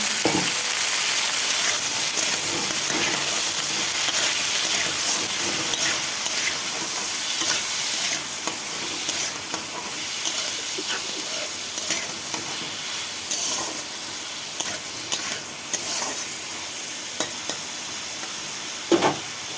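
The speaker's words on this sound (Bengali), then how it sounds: "আলু বেগুনটা ধুয়ে নিয়ে এসেছি, তো আলু বেগুনটা ভেজে নিচ্ছি।" Potato and eggplant pieces fry in hot oil in a wok, giving a steady, loud sizzle with stirring scrapes and occasional sharper crackles throughout, with no talking.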